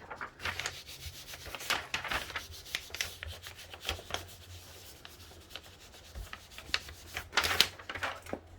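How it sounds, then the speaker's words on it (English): Soft, irregular rubbing and scratching come from sanding a small polymer clay bead by hand, faint and close, with quiet strokes that come and go. "So I'll show you that once we sand it a little bit."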